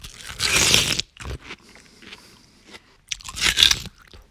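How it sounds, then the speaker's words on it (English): A person eating watermelon close to the mic, with two loud, wet crunching bites and a stretch of quieter chewing between them. "I think I'll play something for you called Human Eating Watermelon"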